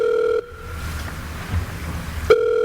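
A telephone rings in two bursts, a steady electronic tone at the start and again near the end, with a quiet stretch of low room noise between them.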